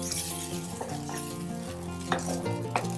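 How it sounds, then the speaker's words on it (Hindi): Salted butter melting in a pan while being stirred, a soft sizzle with a low steady hum beneath and a few light scraping taps of the spoon. "इसको एक दफा हम मेल्ट कर लेंगे, मिक्स कर लेंगे अच्छे से।"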